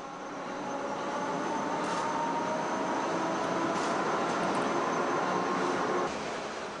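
A retired Berlin U-Bahn E3 train car moves slowly away inside a workshop hall, giving a steady, broad rolling rumble with faint metallic squeaks, continuous and fairly loud throughout.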